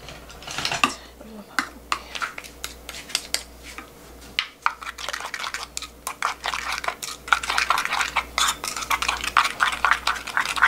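Seasoned fresh conch salad with garlic and vinegar being tossed in a bowl: a dense, continuous run of close clinking, scraping and wet squelching that builds slightly louder toward the end.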